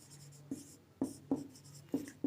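Chalk or marker strokes on a board during a physics lecture on gravitation, five short sharp taps and scrapes in an irregular rhythm, close and fairly clear over a quiet room with no talk.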